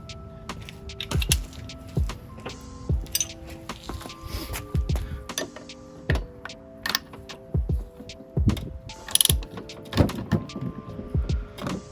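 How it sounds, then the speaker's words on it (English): Ratchet wrench clicking while checking bolt tightness on the rear shock of a BMW E90 3 Series, with irregular bursts of sharp mechanical clicks and clanks close by in a workshop, no speech. "The ratchet to see how tight it is."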